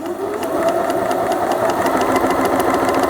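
A home sewing machine runs at a slightly reduced speed, giving a steady close-up whir with a fast, regular ticking of the needle throughout and no talking.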